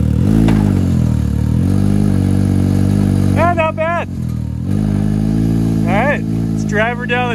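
A 4x4 side-by-side fitted with a fresh set of rear tires runs its engine close by in a loud continuous drone, with short revs rising in pitch in bursts toward the end while people talk over it.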